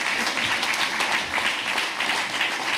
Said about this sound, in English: they do deserve a big round of applause for all the work they do